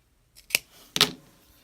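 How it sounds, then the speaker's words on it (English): Two quick, crisp snips of scissors cutting yarn wrapped on a Bucilla pom-pom maker, close and clear in a quiet room. "So I'm going to go ahead and cut my yarn."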